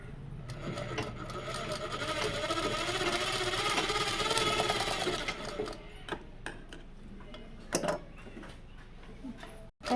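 A sewing machine stitching a tuck into fabric, a rapid steady whirring hum running for about five seconds close by, then stopping, followed by a few faint handling knocks and clicks.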